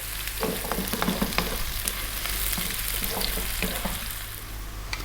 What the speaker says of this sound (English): we really do need to cook the onions until they change color